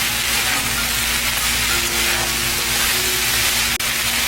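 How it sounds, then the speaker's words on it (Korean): Eggplant stir-fried with onion, paprika and seasoning sauce over medium-high heat, giving a steady, close sizzle and hiss throughout with a faint clink near the end. "이렇게 넣고 중강불에서 약 1분 정도 볶아주세요."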